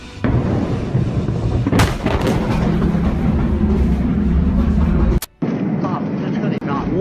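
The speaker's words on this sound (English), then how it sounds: "什么玩意儿爆炸了呀？" Loud, rumbling blasts shake a Chinese city at night, booming continuously with a sharp burst near the two-second mark and a sudden cut around five seconds, while frightened voices shout over the noise.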